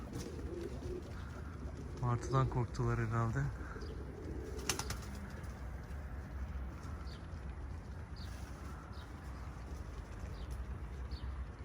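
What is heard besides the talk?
flock of pigeons scattering and flying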